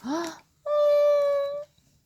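A single drawn-out, tonal meow rises and holds for about a second, close and clear, following a brief vocal sound. It may be a person imitating a cat.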